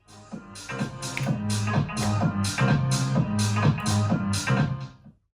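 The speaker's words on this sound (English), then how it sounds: "a drive on the lows and the gate on the highs" Electronic music through a Pioneer RMX-1000 with drive on the lows, giving a gritty, distorted low end, and a gate on the highs making them choppy, pulsing in a steady beat, then it cuts off abruptly.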